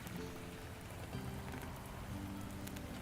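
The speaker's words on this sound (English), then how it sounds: "Her only companion was the rain, hitting the window with rhythmical drops." Steady rain patters against a window pane on a cold, dark day, a continuous soft hiss of drops with no voices, holding an even level throughout.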